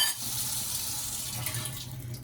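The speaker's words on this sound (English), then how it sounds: "And I pour a cup of water." A cup of water is poured into a pot of thick cornmeal and hominy corn porridge, making a steady, continuous splashing stream at close range without any speech.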